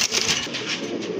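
A Red Bombay pigeon coos close by, giving a short series of soft, throaty pulses with a breathy background.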